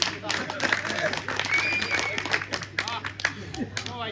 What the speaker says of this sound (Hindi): तालियां दो भाई साहब